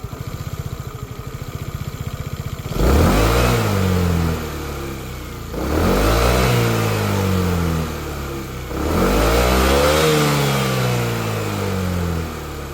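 A WMOTO NX150S scooter engine idling, then revved hard three times in succession, each rev rising in pitch and falling back, close and loud, with no talking.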